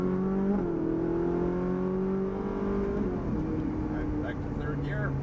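A Ferrari 458 Italia's engine drones loud and close as the car accelerates out of a corner on a track, its tone shifting steadily, while a person talks over it throughout.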